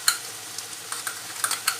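Tomato paste being stirred into a simmering Congolese-style fish stew, giving soft, brief scraping and bubbling sounds in a quiet, close kitchen.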